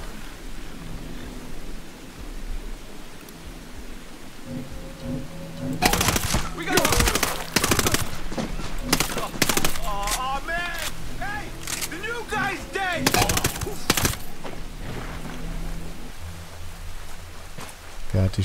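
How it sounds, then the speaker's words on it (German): Gunfire in Ghost Recon Breakpoint rattles out in rapid bursts of sharp shots over a steady hiss, with a voice talking in German between volleys. "Wer hat die Schüsse gehört?"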